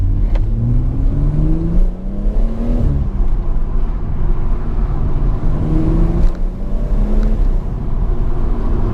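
Steady engine drone and road rumble inside a BMW M140i with an M Performance exhaust and a window slightly open, with a rising and falling engine pitch and a broad rush of wind noise throughout.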